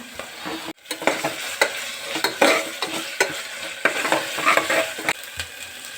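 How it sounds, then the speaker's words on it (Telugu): Ginger garlic paste frying with curry leaves in hot oil for a tomato pulao, a busy sizzle broken by repeated clicking stirs and scrapes of a spoon in the pan, close and loud. "ఇప్పుడు అల్లం వెల్లి పేస్ట్ వేస్తున్నా"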